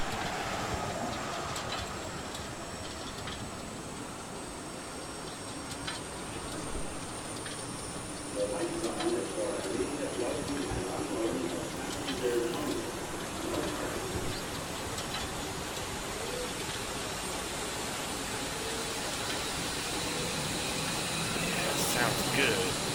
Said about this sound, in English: You can hear the APU spooling up now.